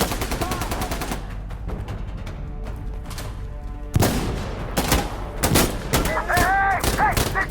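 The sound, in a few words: gunfire in video game Insurgency Sandstorm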